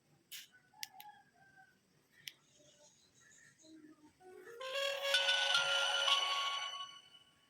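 A tiny mobile phone powers on: a few faint clicks and taps, then a bright electronic startup jingle plays for a couple of seconds, close and fairly quiet.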